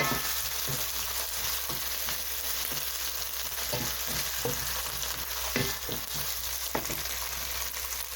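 Mustard seeds fry steadily in a pan, a continuous crackling sizzle broken by regular scraping stir strokes about once a second, close and fairly loud with no talking.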